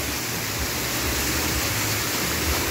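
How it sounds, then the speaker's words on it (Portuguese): Heavy rain pours down in the town centre of Limoeiro do Norte, Ceará, a loud, constant hiss of water striking surfaces with no break, close and unvarying. "Muita chuva."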